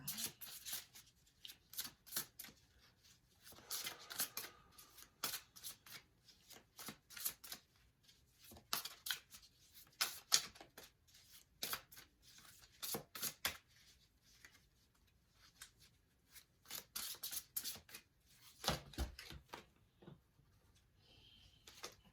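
Tarot cards being shuffled by hand, quiet repeated riffling and slapping bursts in irregular clusters with short pauses between, close and soft, with no talking.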